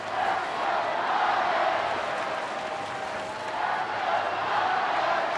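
A dense stadium crowd at a Giants at Padres baseball game in July 2013 chants steadily, rival Giants and Padres fans trading 'Let's go' cheers that swell and dip in a continuous roar with no clear break.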